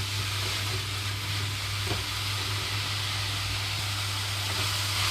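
Brinjal pieces fry in an open pan with a constant, close, even sizzle. The dense crackling hiss runs steadily throughout with no talking.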